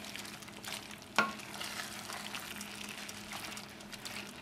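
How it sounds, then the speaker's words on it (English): Chicken risotto with broccoli sizzles and fries in a single pot, a steady soft crackle with a sharp clink of a utensil against the pot early on, close and fairly quiet. "I've just placed the broccoli into the dish, into the pot"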